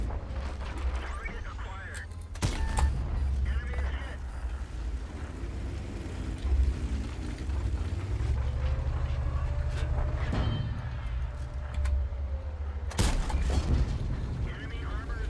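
A tank cannon fires in the World of Tanks video game: sharp heavy booms, one early and one near the end, over a low engine rumble, with someone talking throughout.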